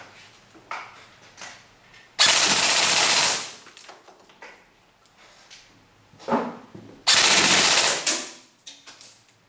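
A Tokyo Marui M4 airsoft rifle fires two sustained full-auto bursts, each over a second long, with clicks and handling noise between them, during a rate-of-fire test.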